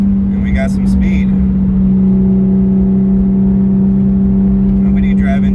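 A Porsche 911 picks up speed on an open road, its engine a steady loud drone heard from inside the car, with brief bits of talk at the start and end.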